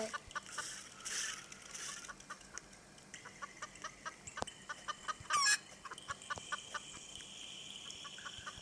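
A cartoon chicken in a Roblox obby game clucks in short bursts, faint and mixed into busy game sound effects and background noise.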